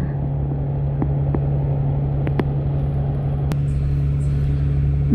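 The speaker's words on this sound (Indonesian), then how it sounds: "Macet lagi guys, masih macet lagi." Hong Kong traffic jam on the way to Mong Kok, heard from inside a vehicle as a steady low engine hum and road rumble with a few faint clicks and taps.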